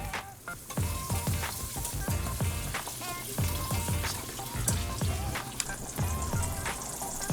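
A tablespoon of butter with a little oil melting in a hot pan, crackling and spitting in dense, rain-like pops with recurring soft clatters close by, no voices.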